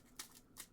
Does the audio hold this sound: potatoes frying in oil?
no